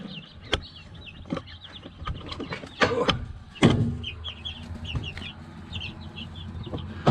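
Two-week-old baby chicks cheep in a rapid, high chorus close by, mixed with soft scratching and bumping noises.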